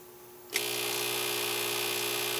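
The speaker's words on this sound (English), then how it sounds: "So I'm gonna turn on that stupid dryer again." A clothes dryer powered through a Victron Phoenix or MultiPlus inverter switches on after a faint hum, then runs as a steady, loud electrical whine and drone that holds evenly to the end.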